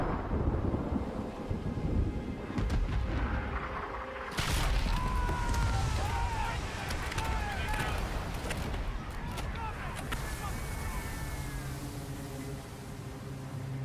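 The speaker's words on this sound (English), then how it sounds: "Sounds like cannons were fired and hit the ship." Cannon fire strikes a ship in the video game Avowed. Deep booming impacts and rumbling crashes are followed by crackling debris and creaking timber, all loud and close.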